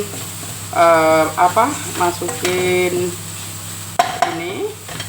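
Pre-fried potato pieces go into a wok of okra curry, which sizzles steadily. A spatula stirs and clatters against the pan, and a voice is heard over the frying.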